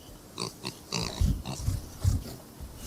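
Several short Minecraft pig oinks and grunts in a row, close and fairly loud, with low snorting bursts between them.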